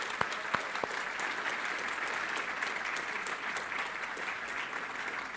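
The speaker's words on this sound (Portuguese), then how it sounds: "Vamos dar um aplauso ao Senhor pela sua palavra." Church congregation applauding during a sermon: a few sharp, separate claps ring out near the start, then broad, steady clapping from many hands continues at moderate loudness with little talk.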